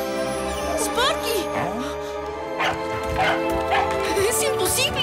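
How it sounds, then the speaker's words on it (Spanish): A dog yips and barks in short bursts with a whimper in the Spanish-dubbed Frankenweenie trailer, mixed with dramatic music and voices. "¡Tu perro está vivo!"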